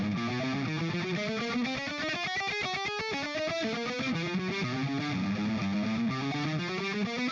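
A distorted electric guitar plays a 1-2-3-4 exercise riff, with muted, choppy palm-dampened notes alternating with ringing, buzzing tones.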